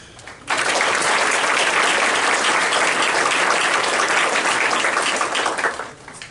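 Audience applause at a school district board meeting honoring students of the month: a loud, dense burst of clapping that starts abruptly, holds steady for several seconds, then tapers off.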